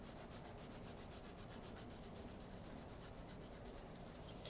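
A nail file rasps quickly back and forth across a client's natural fingernails during a Russian manicure, a soft, rhythmic scratching of many rapid strokes, close and faint, with no talking.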